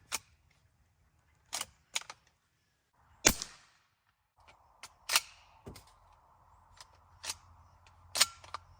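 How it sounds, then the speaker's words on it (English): A suppressed 300 Blackout bolt-action rifle with an Omega 300 suppressor fires AAC Precision 220-grain rounds from inside a shooting blind. Several sharp, muffled cracks ring out a second or more apart, with quiet gaps and faint clicks between them. "First shots are going to be through the Omega 300. These are the AAC Precision 220 grains."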